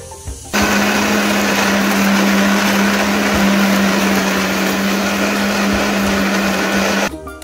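A mixer grinder whirs loudly as it blends masala paste with water for butter chicken, a steady high-pitched motor drone that starts abruptly, runs about six and a half seconds without pause, then cuts off.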